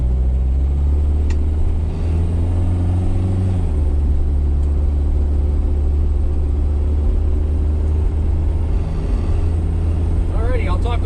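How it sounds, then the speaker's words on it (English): A 1982 AMC Eagle SX4 with a GM Iron Duke engine drives along, its steady, close engine drone and road rumble running continuously beneath someone talking inside the car. "You're riding in a 1982 AMC Eagle SX4."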